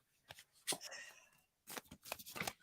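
Tarot cards shuffled by hand in quick riffling bursts, two separate flurries of crisp slapping and flicking with a short pause between, close up with no talk.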